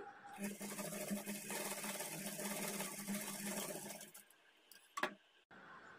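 A sewing machine stitches a dart on a blouse in one close, steady run for about four seconds, then stops with a brief click and light handling noise.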